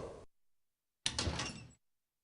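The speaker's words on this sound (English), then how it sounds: "Ah, the closet door." Closet door opening in the PC game Tex Murphy: Under a Killing Moon, a short sliding rumble lasting under a second, preceded by a brief sound and silence.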